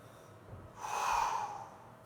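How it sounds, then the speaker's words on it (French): A single deep, airy breath taken during a stretching exercise swells and fades over about a second, close and moderately loud against a quiet room, with no one talking. "Respirez bien."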